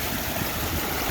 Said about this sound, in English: Having fun on the river.